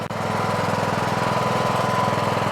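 A Troy-Bilt 17.5 HP lawn tractor engine running steadily up close on a test ride, a loud, even mechanical chugging with a brief dip at the start.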